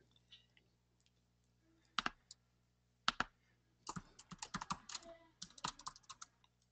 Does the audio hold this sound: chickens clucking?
no